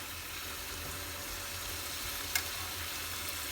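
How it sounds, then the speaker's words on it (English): Onions and beef strips fry on medium heat, a faint, even sizzle running steadily with one brief sharp tick partway through. "So just cook that on a medium heat for about a few minutes, 2 or 3 minutes."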